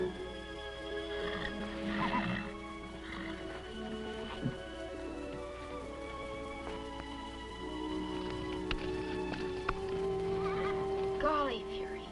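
A wild horse, a stallion, whinnies and neighs repeatedly at moderate distance, with scattered hoof clops and several high, shrill whinny calls in an outdoor 1950s television scene, with no speech over it.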